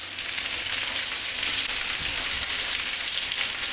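Potatoes fry in a pan for German Bratkartoffeln, giving a steady, dense sizzle and crackle that stays loud and even from start to finish with no talking.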